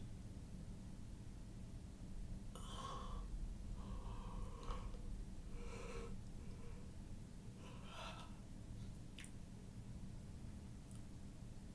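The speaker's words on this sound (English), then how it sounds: "I shouldn't yawn" A long, drawn-out yawn with breathy gasps and snorts over a steady hiss of background noise, close to the microphone, no talking.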